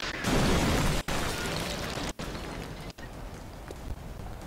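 A building blown apart in a war video game: a loud, dense roaring blast that fills the first second, then continues as a sustained rumbling crackle of debris with brief dropouts, no talk.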